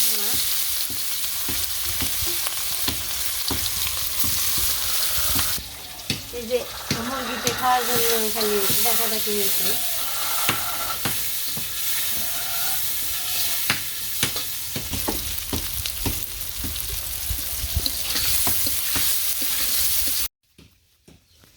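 Fish and onions hiss and sizzle in hot mustard oil over a village cooking fire, with stirring scrapes throughout, running water briefly in between, and a voice talking over the frying.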